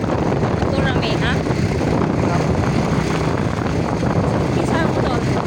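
A boat motor runs at sea with a loud, steady droning roar and heavy wind buffeting the microphone, while people talk over it.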